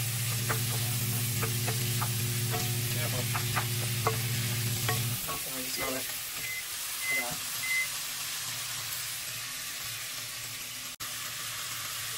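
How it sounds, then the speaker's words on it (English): Garlic butter and garlic spread melting while being stirred in a hot frying pan, with a steady sizzle, scattered utensil scrapes and taps, and a low hum that drops out partway through. "We're just going to add it to the pan and mix it around there until it is fully melted."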